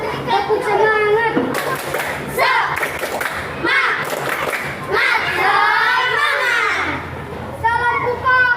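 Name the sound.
group doing a rhythmic 'spirit clap' (tepuk semangat)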